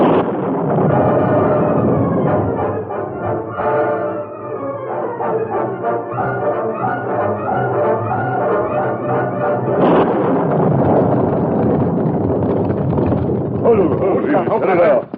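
Radio drama sound effect of a thunderstorm breaking, with heavy rumbling thunder and gusting noise under a narrator's voice and swelling background music, loud and continuous.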